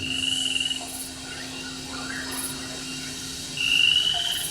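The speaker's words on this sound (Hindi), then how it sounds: "मेंढक हमारे पर्यावरण का महत्वपूर्ण अंग है।" Frogs croak steadily outdoors, with a dense chorus of trilling calls that swell at the start and near the end, alongside a constant background hum.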